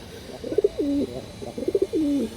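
A pair of khaki pigeons coo close by in two repeated rolling phrases, each rising into a drawn-out, steady note, with no other sound in between.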